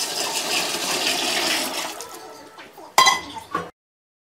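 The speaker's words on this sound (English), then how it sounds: "Dissolve the sugar in the water and pour over the crushed crabapples." Sugar water pours in a steady rushing stream over crushed crabapples for homemade wine, then tapers off, followed by a couple of sharp clinks and a splash before silence.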